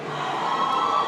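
Home crowd at a basketball championship game cheering loudly, a sustained roar of many voices and shouts filling the arena, rising slightly toward the end.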